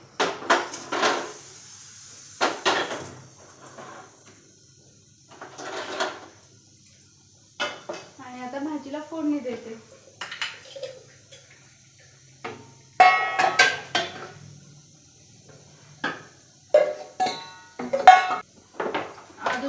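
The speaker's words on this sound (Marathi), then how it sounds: "हे जे कुकर आहे ना ते एकाच्या गॅसवर शिफ्ट करून घेते" Pressure cooker being shifted onto another burner of a gas stove in a home kitchen: scattered metallic clanks and knocks of pots, some clustered, with quiet gaps between them and no talking.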